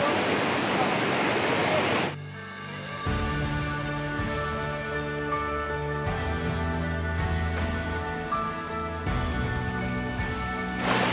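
A river rushes with dense, steady broadband water noise for about two seconds, then gives way to music with sustained tones that runs on over the rest.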